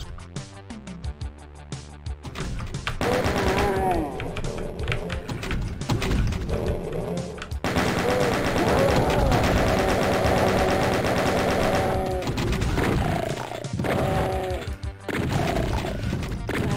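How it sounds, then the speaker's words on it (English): Rapid chain gun fire in Final Doom, loud continuous bursts of automatic shots rattling through long stretches, with brief pauses between volleys and no talk over it. "Okay, chain gun for the zombies."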